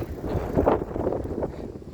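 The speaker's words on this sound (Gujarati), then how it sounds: "આજે વાતાવરણ સારું છે અને પવન બહુ જ" Strong wind buffets the microphone on a bicycle ride outdoors, a close, low rumbling roar with uneven gusts that holds steady throughout.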